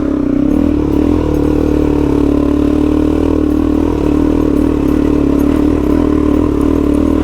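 Suzuki DRZ motorcycle engine labouring at low revs over slippery, wet rocks on a solo adventure ride in the Australian Snowy Mountains, a continuous close, rumbling drone with clattering, heard alone without talk.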